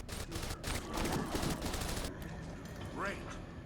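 Turrets fire at zombie hordes in the strategy game They Are Billions, with rapid overlapping shots crackling loudly at first, then thinning into sparser bursts with a few short tonal game effects.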